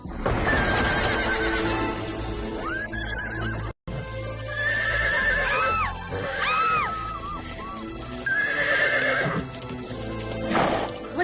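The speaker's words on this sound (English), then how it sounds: "I think it's called a horse." A horse in a dramatic film setting whinnies loudly several times, shrill rising and falling neighs standing out over hoof clip-clop and dense background sound, with a brief dropout near the start.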